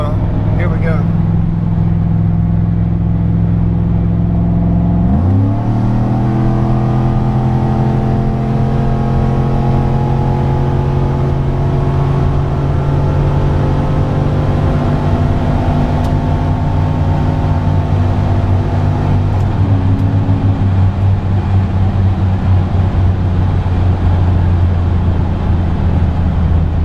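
A Saab 9-7X engine in a hard third-gear pull, the drone leaping up around five seconds and climbing steadily for about fifteen seconds before a shift drops it back, loud and close inside the cabin throughout.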